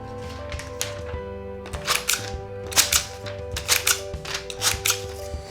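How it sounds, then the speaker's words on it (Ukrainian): Stocker 2032 rotary garden grass shears with plastic handles snipping through a leaf: a series of sharp, crisp clicks and snips, about six of them at an irregular pace, close up over a low steady background hum. "Спробуємо порізати цими ножицями листок."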